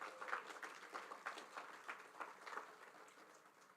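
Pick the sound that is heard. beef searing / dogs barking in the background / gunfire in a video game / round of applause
round of applause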